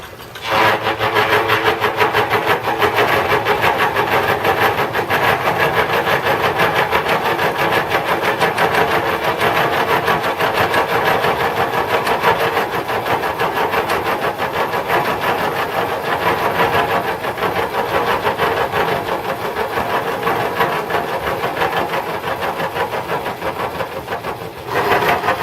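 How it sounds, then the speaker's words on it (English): An Atlas milling machine conventional-mills a T-nut, a loud, steady grinding whir of the cutter in metal that runs unbroken for the whole stretch, with no talking. "So I'm going to be conventional milling this."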